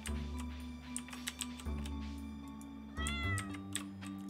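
Cat meowing in the farming video game Stardew Valley, a few short game-style meows over a steady looping music backdrop with light ticking sounds.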